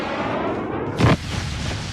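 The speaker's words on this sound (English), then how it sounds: "Friendly napalm deployed." Napalm airstrike in Call of Duty Mobile, a single short, loud boom bursting out of steady game noise, with a low rumbling impact that fades quickly.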